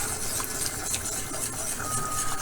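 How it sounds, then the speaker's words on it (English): Chicken Alfredo cream sauce being stirred in a pot, with a steady soft scraping and swishing of the utensil and faint clinks against the pot, continuous and close. "I'm stirring it now to make sure that we get all those chunks"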